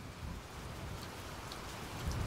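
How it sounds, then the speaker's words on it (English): Steady rain falling on surfaces with a low, rumbling bed that suggests distant thunder as a storm arrives in woodland, constant and moderately loud with no voices. "I thought we had more time before the storm arrived."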